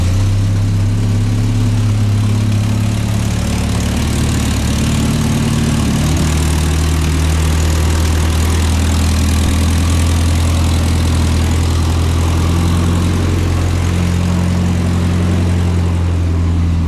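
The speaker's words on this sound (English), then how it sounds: "Let me actually go, I want to hear the idle." A non-turbo Volvo engine idles steadily with a deep, slightly lumpy low rumble, close and loud, running alone without talk throughout.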